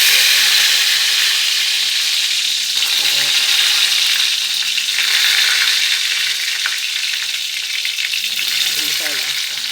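Curry leaves, urad dal and mustard seeds sizzle hard in hot oil for a drumstick, tomato and brinjal curry, a loud, dense, continuous crackling hiss with faint background tones, steady for nearly ten seconds.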